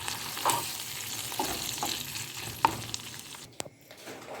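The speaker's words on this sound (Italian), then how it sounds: "Ecco qua la salsiccia arrosolato." Crumbled sausage browning in a pan with sausage sauce sizzles softly and steadily, with a few light clicks of stirring.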